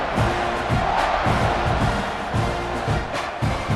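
Stadium crowd at kickoff in the College Football 26 video game, Missouri State versus Texas A&M, a steady loud roar of massed voices with rhythmic swells of cheering and chanting throughout.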